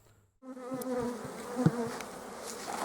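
Dense, loud buzzing of many honey bees swarming close by, a steady droning hum that starts abruptly after a brief near-silence.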